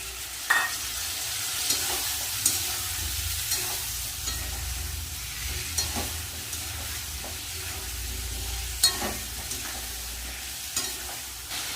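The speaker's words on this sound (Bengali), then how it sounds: "এখানে আলু আর ডাটা কিন্তু ভাজা হয়ে গেছে এবার আমি মশলাটা দিয়ে দেবো" Fried potatoes and vegetable stems sizzle steadily in oil after cumin, chilli, ginger and tomato are added, with occasional sharper crackles and spoon scrapes over a continuous hiss, close and moderately loud.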